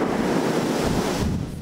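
Powerful storm wind roars in a steady, loud rush of gusts, broadband and continuous before easing slightly near the end, with no voices.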